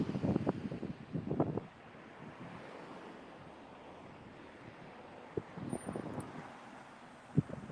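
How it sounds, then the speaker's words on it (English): Strong gusty wind outdoors in San Francisco buffets the microphone, with loud rumbling bursts at the start that settle into a steady roar, then a few sharp knocks near the end; no speech. "Yeah, it's crazy windy."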